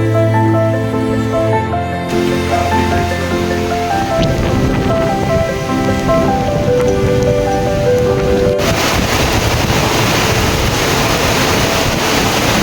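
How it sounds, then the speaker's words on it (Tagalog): Heavy, steady rain pours down during a typhoon at a campsite, with roaring gusts of wind surging through, loud and continuous with no voices. "Grabe, pabugso-bugso yung hangin dito sa kaulan,"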